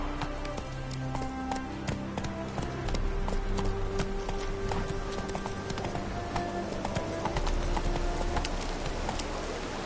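Roach the horse gallops in The Witcher 3, a steady, rapid clip-clop of hooves running throughout over a faint musical backdrop.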